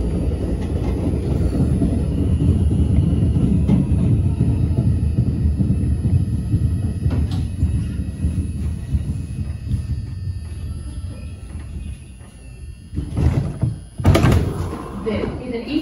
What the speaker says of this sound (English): This is an Eastchester, Dyer Avenue bound, 5 local train.